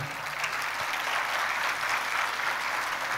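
Audience applause for a book's co-author at a Brazilian public event, a steady dense clapping that fills the whole stretch at close range with no voices over it.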